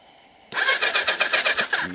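The starter cranks the engine of a 1999 Kawasaki ZRX 1100 motorcycle with the spark plugs removed, giving a rhythmic whirring chug of even compression pulses close up for about a second and a half.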